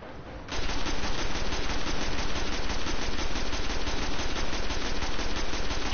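Sustained rapid automatic gunfire from the Destiny video game on PS4, a loud continuous stream of shots that starts abruptly and runs without pause.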